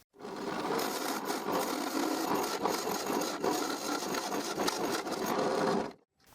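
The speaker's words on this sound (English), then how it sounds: "I align and I drill the second hole." An electric drill bores a hole through a treated wooden post for a climbing plant support, a continuous rough grinding whir for about six seconds that stops abruptly near the end, with no talking.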